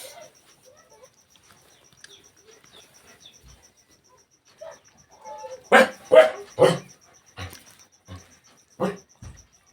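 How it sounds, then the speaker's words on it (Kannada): A dog barks in front of a village house: a loose run of sharp barks, some close and loud, others fainter, over quiet night insect chirps. "ನಮ್ಮ ಮನೆ ಮುಂದೆ ನಾಯಿ ಐತ್ರಿ ಫ್ರೆಂಡ್ಸ್,"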